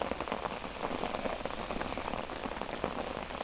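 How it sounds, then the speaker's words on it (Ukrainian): Heavy rain falls steadily on a lake or pond during summer bream fishing, a dense continuous patter of drops hitting the surface with no voices. "дощ валить"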